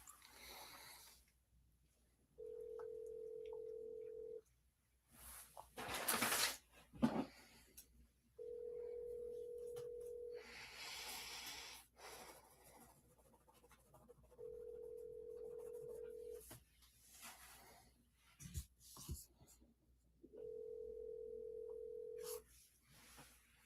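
Telephone ringback tone on an outgoing call to a 610 area code number, sounding as four evenly spaced steady tonal bursts about two seconds long with gaps between them, quiet background and some faint breathing or shuffling noises in between.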